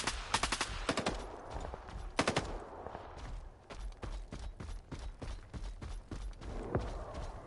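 Gunfire in the STALKER 2 video game: bursts of automatic fire with single loud shots, some rapid rattling volleys and scattered reports, alone without talk.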